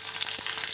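A hot oil tempering of mustard seeds, sesame seeds, green chillies and curry leaves for white rava dhokla sizzles briefly, with a bright hiss and a few small pops close by.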